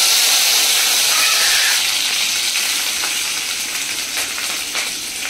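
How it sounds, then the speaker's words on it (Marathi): Oil spatters and sizzles in a hot pan while sabudana khichdi fries, a loud, dense crackling hiss that eases a little toward the end, with a few sharper pops. "तेल उडता"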